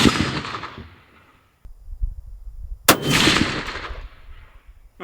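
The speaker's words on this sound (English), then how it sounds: "Let's go ahead and shoot some long range." Two sharp rifle shots at a long-range shooting session, each a loud crack followed by a long rolling echo that fades over about a second and a half, with quiet outdoor ambience between.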